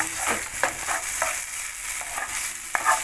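Leek being stirred and fried in a pan with olive oil, mixed in with cooked lentils: repeated close scraping strokes over a steady sizzle, with no talking.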